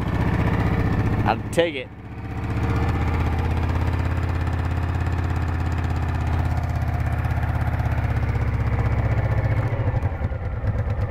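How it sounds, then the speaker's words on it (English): Motorcycle engine idling steadily up close, a low, even rumble that runs throughout, with brief speech and a sharp knock near the start. "It's a good bike though. Fires right up."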